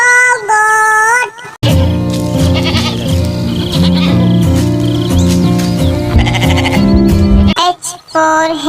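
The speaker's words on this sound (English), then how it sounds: "G for goat." A goat bleats in a children's alphabet song, one loud quavering cry at the start and another near the end, framing a bouncy stretch of music.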